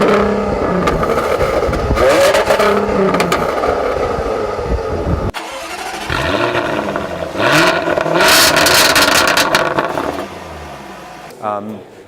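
A 2015 Jaguar F-Type coupe engine revs and accelerates hard, loud and near, with rising pulls and shifts, a pause midway, then another surging run; a voice is heard briefly over it.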